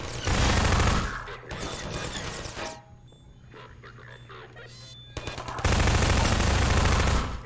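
Rapid automatic turret gunfire in Half-Life 2, loud dense bursts at the start and end with a quieter gap between where scattered shots and game sounds continue.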